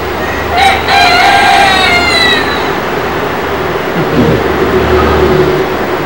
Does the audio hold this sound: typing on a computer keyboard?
no